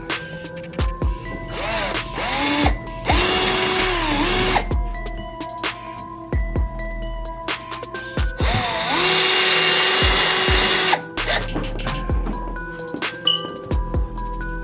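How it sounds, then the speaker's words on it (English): A power drill drills into the front bumper of a 2010-2012 Mustang GT in two long, loud bursts, its motor whining steadily, with shorter spins and mechanical clicks in between. "So now I can actually drill right through all these holes and get it in all perfect."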